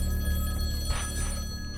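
A telephone rings in the video game Fey: Distant Daydream, a steady electronic ring with a brief brighter burst near the middle, heard alone over a constant low background hum.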